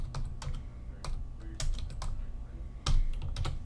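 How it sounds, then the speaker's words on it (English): Computer keyboard typing, a quick run of irregular key clicks with short pauses and a couple of louder strokes, close and clear with no talking. "now we just need to keep typing"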